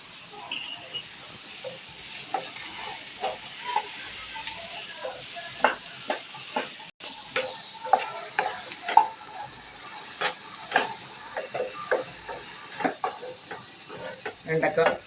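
Okra being stir-fried in a pan gives a continuous light sizzle under a busy run of close spatula scrapes and clinks. The strokes come in an irregular rhythm throughout, with one brief louder hiss partway through.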